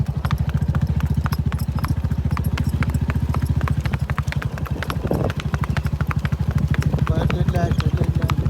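A mare's hooves clip-clop at a steady walking rhythm, close and loud throughout, with people talking over the hoofbeats during an outdoor photo shoot.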